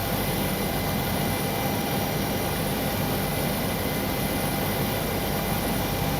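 Steady, loud, unbroken roar from a Boeing 727-200F freighter's jet engine spooling up in Microsoft Flight Simulator, a broad constant rush of noise with a faint high whine, no voices.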